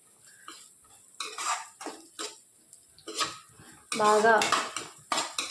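Prawns and cashews are stirred in a frying pan, with repeated metal scrapes and clatters of a spoon against the pan. A voice speaks briefly over the stirring.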